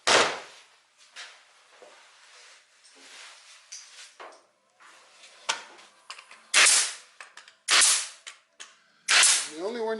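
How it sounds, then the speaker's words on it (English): A staple gun fires small pieces onto a wooden router jig, giving several sharp, loud snapping clicks spaced irregularly over the stretch, with quieter handling noises between them. "I'm going to staple these little guys on"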